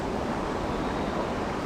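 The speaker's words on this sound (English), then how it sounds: "the wind's so bloody blustery." Blustery wind by a river while fly fishing roars as a steady broadband rush across the mic, buffeting continuously throughout with no voices over it.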